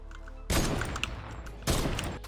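Gunfire in the video game Fortnite comes in two sharp bursts of rapid shots, the first lasting about a second and the second shortly after, set against a quiet background.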